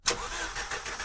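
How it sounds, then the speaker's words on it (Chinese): An engine turns over and settles into a steady mid-pitched car idle close by, heard alone and without voices, as an in-game sound in the horror video game Firework. "左边有车的声音"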